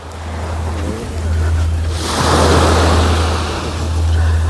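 Broad surf noise of sea waves washing ashore at Langeron beach in Odesa, a steady wash that swells louder partway through, with low wind rumble underneath and no talk.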